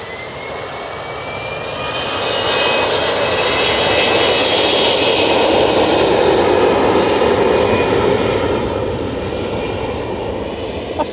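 An airliner departing Manchester Airport for Faro roars loudly as it climbs out, a thick engine rumble with a high whine that builds over a couple of seconds, peaks, then slowly recedes.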